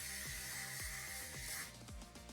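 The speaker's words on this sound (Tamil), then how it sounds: "இப்படி நான் வந்து ஸ்ப்ரே பண்ணிக்கிறேன்." A faint, continuous hiss of aerosol hair spray lasts about a second and a half, then cuts off.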